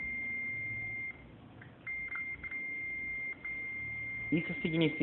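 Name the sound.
multimeter continuity beep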